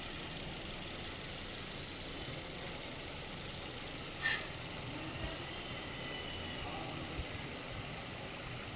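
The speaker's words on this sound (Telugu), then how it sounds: "చాలా అంటే చాలా సైలెంట్గా ఉంది ఇంజిన్" A 2018 Maruti Baleno's engine idles quietly, a soft, even hum that holds steady throughout, with one brief sharp click partway through and no talking.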